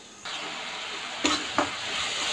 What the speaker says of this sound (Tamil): இப்போ ஃபஸ்ட்டு வெங்காயம் போடலாம்.